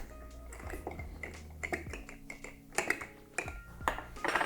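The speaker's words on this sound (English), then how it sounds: "we're gonna add our ice here and give it a nice stir" Ice clinking against a glass as a spoon stirs a tequila cocktail, a close series of irregular light taps and clicks, fairly quiet.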